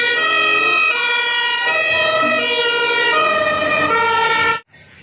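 A toy fire truck siren on a long toy fire engine wails loudly and close, its electronic two-tone pattern repeating steadily for several seconds before cutting off abruptly.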